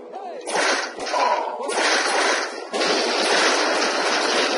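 Gunfire in the video game Fallout 3, a series of loud, sharp broadband bursts that run together into a dense, sustained barrage, with brief gaps early and continuous firing afterward.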